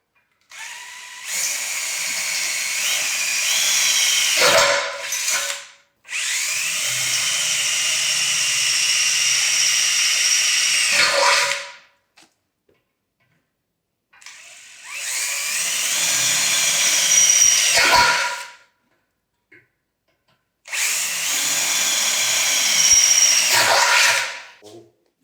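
A power drill bores holes in a ladder during the fitting of ladder levelers. Four long, loud whining bursts are separated by short silences, with the motor pitch shifting as it bites and frees.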